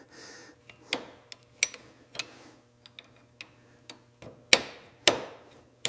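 Gentle hammer taps on the original piston of a 1960s Triumph Bonneville T120 engine during a rebuild: about a dozen sharp, close metallic knocks spaced irregularly, some louder than others, with no talking.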